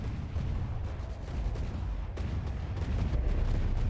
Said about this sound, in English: You can see some cannons firing